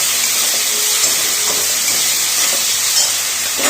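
Curry masala being sautéed with dried fenugreek leaves in a pan for aloo dum, giving a steady close sizzle and hiss with a few faint stirring scrapes throughout, no voices.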